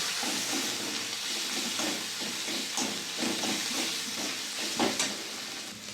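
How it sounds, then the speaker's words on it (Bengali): Chopped tomatoes with turmeric and Kashmiri chilli powder fry in a pan for a Bengali potol dorma, giving a steady close sizzle broken by occasional stirring scrapes and clinks. "কাশ্মীরি লঙ্কার গুঁড়ো কেটে রাখা টমেটো ভালো কষিয়ে"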